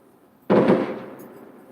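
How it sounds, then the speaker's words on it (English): Fireworks go off outdoors with one sudden loud boom that rumbles and decays over about a second, heard from indoors against a quiet background. "Don't ask me why they're doing fireworks this time of year."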